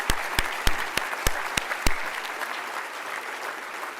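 Audience applause at a conservative political summit, opening with several sharp, loud claps that spread into a steady wash of clapping from a large crowd, gradually easing off.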